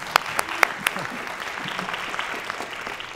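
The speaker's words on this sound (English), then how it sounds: "Another round of applause for Elise Schadler" Evening audience gathered for an urban wilds talk claps for a presenter; a few sharp, close claps stand out at the start, then the applause settles into a dense, even patter before thinning.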